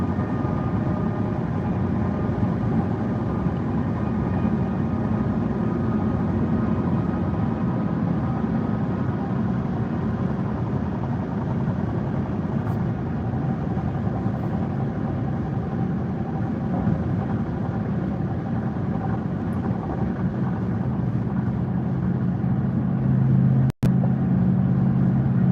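Steady road roar from inside a vehicle running at about 70 mph on a highway among trucks, a continuous loud rumble with tire and wind noise and no talking.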